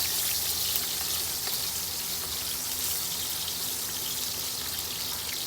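Chicken fries in hot oil with a steady, dense hiss and crackle, a fairly quiet continuous sizzle with no voices.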